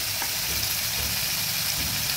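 Three green chilies sizzle steadily in hot oil in a pan while a potato and long-bean vegetarian curry is being cooked, with a continuous, close frying hiss that has no pauses.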